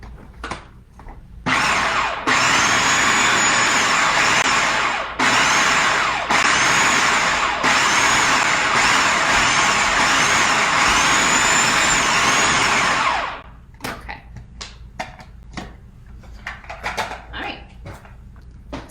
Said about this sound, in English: one more zap in the food processor